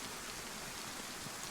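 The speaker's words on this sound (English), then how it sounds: "It's raining." Steady rain falling in a zombie survival video game, a dense, even hiss of drops that holds without pause across the short stretch at a soft level.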